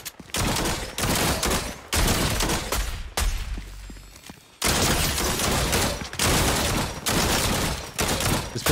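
Repeated pistol gunfire in the Fortnite video game, loud sharp shots in several quick bursts with brief pauses, one longer gap partway through, no talking.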